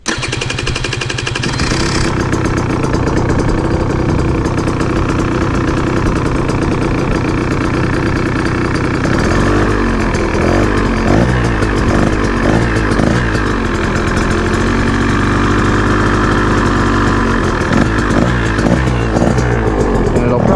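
A rebuilt 2023 KTM 125 XC two-stroke motorcycle engine cranks and catches, then settles into a loud, rapid, uneven idle with sputtering bursts, sounding close by.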